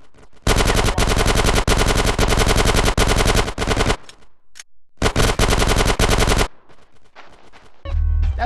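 Machine gun fire in GTA San Andreas, loud sustained automatic bursts that stop for a brief gap and then resume, ending with a different heavier burst.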